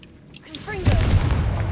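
A Confringo blasting spell in Hogwarts Legacy erupts into a single loud, close explosion with a rumbling tail, following a brief spoken word.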